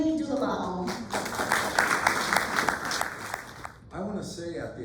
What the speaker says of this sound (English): So please, a warm round of applause for Willard Dulabaum.